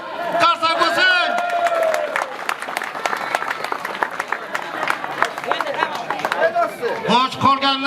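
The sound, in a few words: applause, a round of clapping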